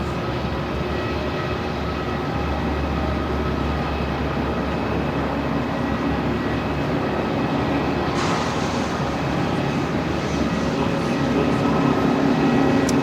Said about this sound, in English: the tug is noisy, isn't it?